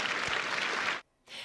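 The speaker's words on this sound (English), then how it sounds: "you hear the applause there" A crowd at a trade event in Vancouver claps steadily in a dense, sustained burst of applause for about a second, stops abruptly, then a fresh round of clapping starts up.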